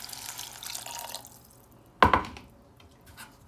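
A cup of water poured into a hot pan of ground beef cooking with paprika over medium heat gives one short, loud splash and sizzle that tails off quickly after a stretch of quieter kitchen noise.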